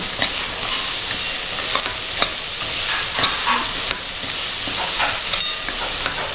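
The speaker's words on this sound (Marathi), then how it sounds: "साखर टाकली ना की व्यवस्थित ढवळत राहायचं" Grated coconut and sugar stirred in a hot pan for coconut barfi, a loud continuous sizzling hiss broken by scraping spatula strokes every second or so, close by with no talking.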